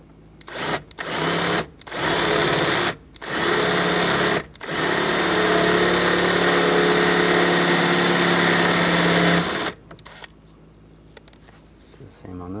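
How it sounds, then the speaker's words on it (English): A power drill bores out the rivets holding the glove box latch on a 1999-2006 Chevrolet Silverado 1500, several short bursts followed by one long sustained whine, close and loud, then faint handling noises. "We're gonna drill these out right here and right here."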